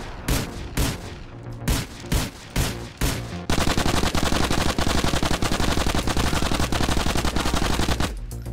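Rapid repeated gunfire from the .44 pistol in the video game GTA IV: The Ballad of Gay Tony, starting as separate loud shots and then blurring into a dense, continuous burst of fire.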